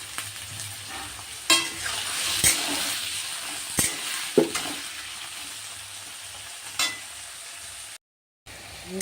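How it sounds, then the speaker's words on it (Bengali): Potatoes frying in a pan for ghugni, a soft continuous sizzle with occasional scraping stirs and clinks, close and without talk, ending in a short cut. "আলুটা প্রায় ভাজা ভাজা হয়ে এসছে"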